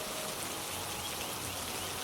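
Heavy rain pours down in an animated cartoon, a steady dense hiss of falling drops filling the scene with no voices.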